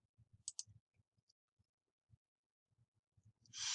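Faint, sparse computer mouse clicks, some single and some in quick pairs, while giving feedback in a Flipgrid video-response app, ending in a short burst of soft noise.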